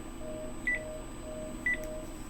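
A second telephone sounds in the room as a call goes through to voicemail. Two short, faint electronic beeps are spaced about a second apart over a quiet background.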